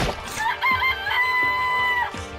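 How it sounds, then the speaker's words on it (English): Chickens in the video game Danganronpa: Trigger Happy Havoc, a clear, loud synthetic clucking and crowing call with a steady melodic tone, repeated in a couple of short phrases with no talking. "It's a chicken! It's really alive, right?"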